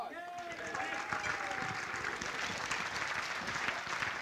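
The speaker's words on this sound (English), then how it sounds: "Can we give them a round of applause?" Audience applause at a Man, Woman and Student of the Year awards event, a continuous spread of clapping with some voices and cheers mixed in, heard somewhat distant and fairly quiet.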